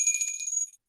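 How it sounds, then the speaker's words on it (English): One bright ring of a small bell, clear and fairly loud, then fading out quickly into silence. "thank you for the little bell ringing"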